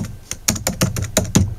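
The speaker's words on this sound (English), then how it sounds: "I type with 2 fingers" Slow two-finger typing on a laptop keyboard: about eight distinct, close key clicks spaced unevenly at a hesitant pace, with nobody talking.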